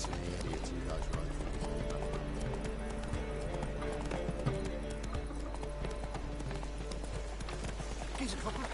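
Hoofbeats of Roach, the horse in The Witcher 3, clop along at a steady running pace beneath a constant bed of game music, with an occasional whinny.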